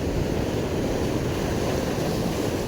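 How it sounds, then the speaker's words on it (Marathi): Sea waves crash steadily against a jetty on the Konkan coast between Agardanda and Dighi, a dense continuous roar of surf with wind buffeting the microphone throughout. "भरपूर लाट मारते या जाग्यावर"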